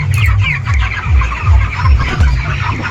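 A flock of broiler chickens at a poultry farm clucks loudly and continuously, close by, with overlapping rhythmic low calls and no speech.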